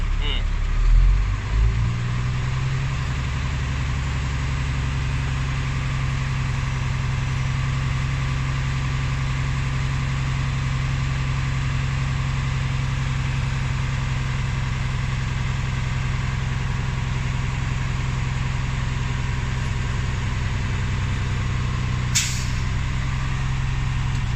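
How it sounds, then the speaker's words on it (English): A truck's air brake system builds pressure while the engine runs steadily at raised revs for about twenty seconds, a sustained loud drone with a brief hiss near the end; someone speaks over it. "I will now do a fast acceleration until my needle stops rising. That will be my governor cut out."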